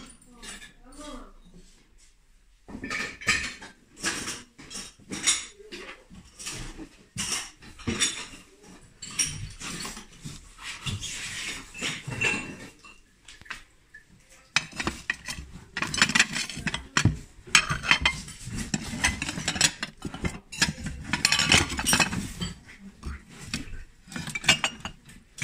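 Old antique porcelain plates and dishes being handled at a flea market in Germany, with repeated light clinks and clatter close by, mixed with people talking throughout.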